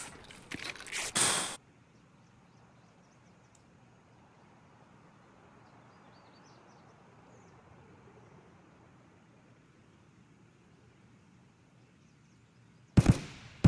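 Gunfire aimed at the player in Escape from Tarkov: a loud, sharp burst of shots, a long stretch of near-silence, then another loud burst at the end.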